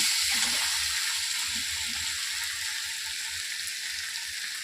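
Vegetables frying in a pan with tomatoes and salt just added, giving a loud, steady, close sizzle that holds evenly throughout with no voices.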